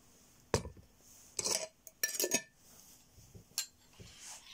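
A teaspoon stirs baobab powder into a bowl of yogurt, making several distinct clinks and scrapes against the container in irregular bursts, close and fairly quiet, with soft handling noise between them.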